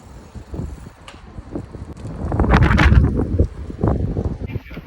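Strong wind buffets the microphone outdoors in Copenhagen, rumbling and gusting loudly, swelling to its strongest in the middle of the gust.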